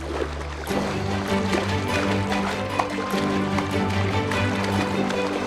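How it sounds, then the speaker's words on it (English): Western grebes patter across a lake surface in their courtship rush, a dense, continuous splashing and slapping of feet on water, loud and close, with steady rushing noise throughout. "Running across the surface of the water is exhausting."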